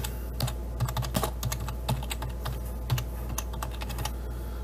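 Quick bursts of light keystrokes on a computer keyboard, typing a search into a search bar, close and fairly quiet against a low steady hum, with no voices.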